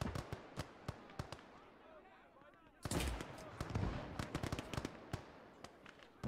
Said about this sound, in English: Oh, they do have an artillery.